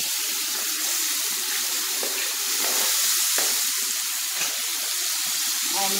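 Chopped tomatoes hit a pan of hot oil with frying onions and green chili, giving a steady broadband sizzle and hiss throughout with a few soft stirring clicks, close and alone with no talk.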